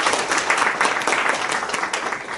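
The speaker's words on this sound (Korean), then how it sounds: "박수로 시작하겠습니다." Applause at a policy forum on the Gwangju job model: a crowd clapping in a steady, even wash at moderate loudness for the whole stretch, with no single voice rising above it.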